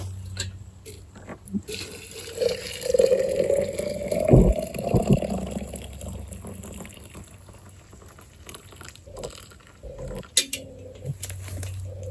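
Boiling water poured into a jar of yaupon holly leaves gives a bubbling, gurgling fill that rises and swells midway, then settles into a quieter trickle, with no voices.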